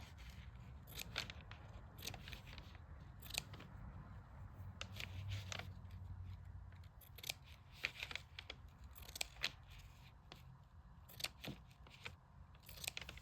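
Scissors snip repeatedly through craft material, cutting little fringe strips for a small handmade scarf; crisp close cuts come in quick clusters with short pauses between them, with no talking.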